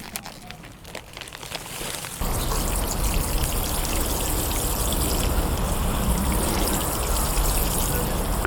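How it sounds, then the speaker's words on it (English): Garden border of newly planted summer annuals, freshly dressed with compost, being watered in; a quieter patchy trickle gives way after about two seconds to a steady, loud, close rush of water spraying onto soil and foliage that continues unbroken. "we're giving them a really good watering in"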